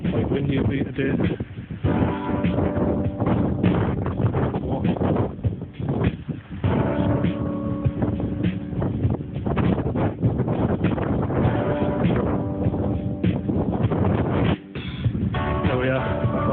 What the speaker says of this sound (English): Quite windy it'll be today.